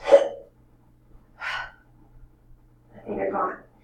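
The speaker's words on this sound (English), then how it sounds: "I have the hiccups" Hiccups come in three short, sharp bursts spaced about 1.5 seconds apart, close and fairly loud, over faint background hum, with no words spoken.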